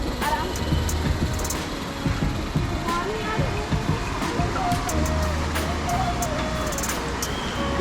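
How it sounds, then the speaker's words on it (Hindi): Rushing water from a waterfall by the Kosi river in Uttarakhand, a constant mid-distance wash that runs steadily under what sounds like faint voices and background activity. "झरने का शॉट लेते हैं।"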